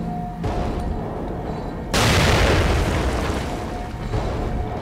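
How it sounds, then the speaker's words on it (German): A grenade explodes in The Evil Within with a sudden loud boom that rolls into a sustained rumbling wash of debris, following a stretch of low, steady ambience. "Wir könnten noch eine Granate schmeißen."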